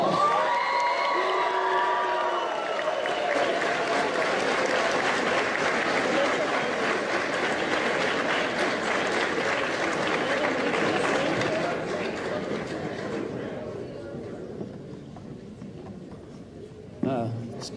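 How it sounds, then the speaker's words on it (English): Audience at a JROTC awards ceremony breaks into a long, dense wash of applause and cheering that gradually fades toward the end, with faint voices mixed in. "Give them a round of applause."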